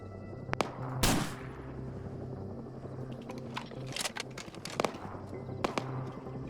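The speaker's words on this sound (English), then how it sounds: "Put 3 rounds on him." Sniper rifle shots in the military shooter Arma 3, a few sharp, separate cracks spread through the clip over steady wind-like background noise, with one heavier blast early on.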